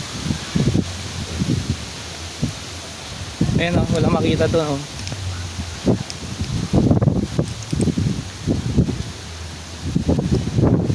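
Strong wind buffets and rustles in gusts during a dust storm at SM Mall of Asia by Manila Bay, while a person talks intermittently over it.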